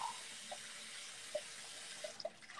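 Water from a home tap flows steadily into a sink, a soft continuous hiss with small drips and light knocks, ending in a louder burst.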